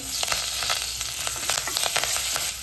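Spices including asafoetida and turmeric crackle with curry leaves in hot oil for an Indian tempering. The close sizzle is loud and steady, with scattered sharp pops and spits throughout.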